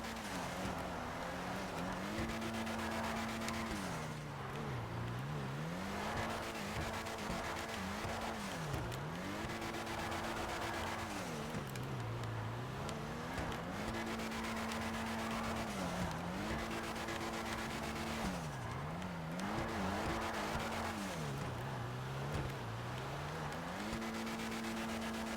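An Ubermacht Zion Classic car in GTA 5 Online drives on a track with a steady engine drone that rises and dips with repeated gear changes and throttle lifts, and a tire squeal underneath, close and continuous.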